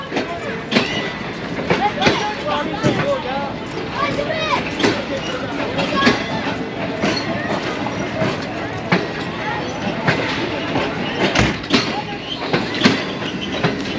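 Newly upgraded Shalimar Express passenger train of refurbished coaches running along, loud continuous rumble with repeated clickety-clack wheel beats and brief squeals, heard from on board with voices in the background.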